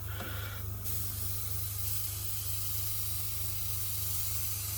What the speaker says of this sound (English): If I knock the compressor on.